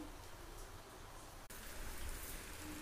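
Steady rain on a wet day, a dense even hiss of falling drops with a brief dropout midway and no speech.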